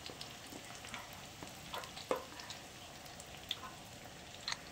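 Pork egg rolls, Filipino lumpia, frying in oil in a pan, a steady soft sizzle with scattered crackles and pops, close but fairly quiet, with no talking.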